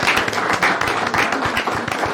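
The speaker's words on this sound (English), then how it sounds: "let's give Rob Wu a round of applause for accepting this" Applause at a city mayor and council meeting after a proclamation is accepted: a roomful of people clapping steadily for a couple of seconds, close and moderately loud, with no speech over it.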